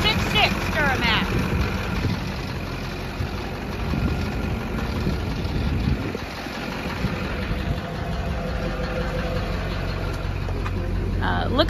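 A 6.6-litre Duramax diesel in a Chevrolet Silverado 3500HD, a truck that smokes slightly, idles steadily and close by for the whole stretch, with a constant low rumble and someone speaking over it.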